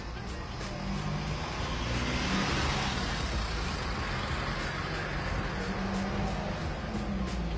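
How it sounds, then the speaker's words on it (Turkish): A manual-transmission car pulls away from a green light during a driving test, its engine and road noise forming a steady, close rumble that runs through the whole stretch with a slight swell early on. "Yeşilimiz yandı. Kontrollü bir şekilde aracımızı kaldırıyoruz."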